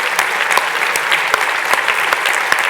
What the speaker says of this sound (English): Can we just give him a round of applause for 8 years?